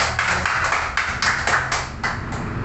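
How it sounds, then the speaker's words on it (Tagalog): A church congregation bursts into loud applause at a religious gathering, a dense burst of clapping with rhythmic surges, fairly close and steady for a few seconds. "Malakas na palakpak."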